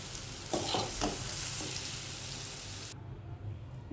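Small pieces of firm ripe jackfruit fry in a pan with a loud, close, crackling sizzle that runs steadily and then drops abruptly to a softer bubbling near the end.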